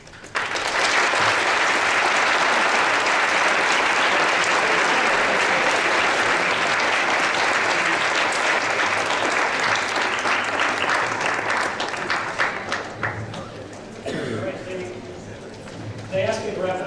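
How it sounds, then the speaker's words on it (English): An audience at a teachers' workshop talk in Sapporo, Japan applauds loudly and steadily for over ten seconds before the clapping thins out and a voice begins speaking near the end. "Please give another round of applause for Ms. Stewart."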